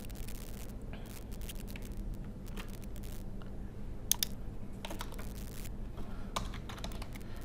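Computer keyboard keys pressed in short bursts while working in Microsoft Word, a scattering of close, quiet clicks and taps over a steady low hum, with no talking.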